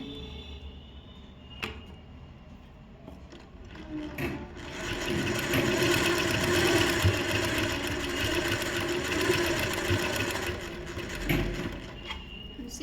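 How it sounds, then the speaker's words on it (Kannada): Sewing machine stitching sleeves onto fabric, a faint, steady mechanical whir running for several seconds with soft clicks before and after. "ಈ ಕಡೆ ಶಿಚ್ ಹಾಕ್ತಾ ಇದ್ದೀನಿ ಒಂದು ಸೈಡಲ್ಲಿ ಸ್ಲೀವ್ಸ್ ಹಾಕ್ತೀನಿ"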